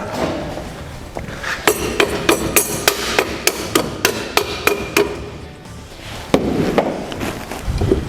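Repeated sharp hammer strikes on metal in a steady rhythm while fitting an E30/E36 limited-slip unit into an E21 differential, about a dozen ringing blows close by, with a short pause before a few more hits.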